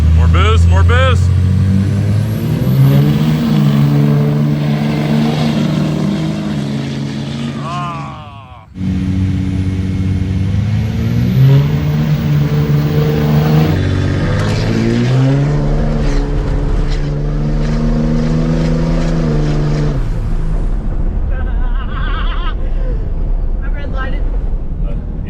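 A race truck launches off a drag racing tree with boost, its engine roaring and revving loudly through rising and falling pitch sweeps, with a short break before another hard pull, while people talk over it.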